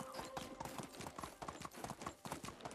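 A ridden horse in Medieval Dynasty clip-clops along in a steady, quick hoofbeat rhythm, close and clear throughout with only faint background.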